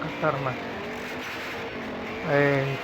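Stunt car video game engine sounds as a car drives and jumps over a highway, two short rising revving bursts with a quieter stretch between them, a voice briefly present.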